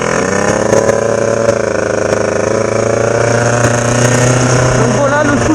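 A small 50cc scooter engine, warmed up, drones loudly and continuously at a steady, buzzing pitch, rising slightly toward the end as it rides.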